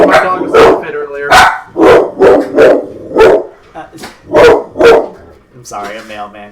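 A dog barks repeatedly at the mailman arriving at the door, a series of loud, close barks in an irregular rhythm with short gaps between them, followed by brief fainter sounds at the end.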